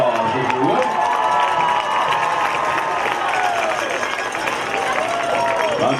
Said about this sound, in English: Let's give them a nice round of applause, if you would.